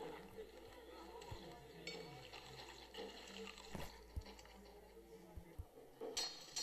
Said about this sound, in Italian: mentre beve cade l'acqua